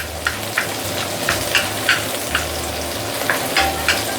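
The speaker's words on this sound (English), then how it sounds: "So use high heat and char the prawn shell." Prawn shells frying over high heat in a wok, a steady sizzle broken by regular scraping stir strokes about every half second, close and clear with no talk.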